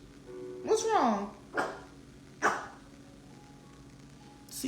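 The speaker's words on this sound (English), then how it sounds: "See, my dog is barking." A dog barks indoors in a home: one drawn-out, whining bark followed by two shorter, sharper barks a second apart, fairly close and clear over a quiet room.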